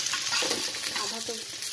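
Fish fries slowly in hot oil in a pan, giving a dense, continuous close-up sizzle with faint crackling throughout.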